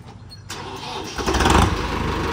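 An old New Holland tractor, once sunk in water, cranks and fires up. A short whirr gives way to a loud catch, and the engine then settles into a rough, close, steady running rumble.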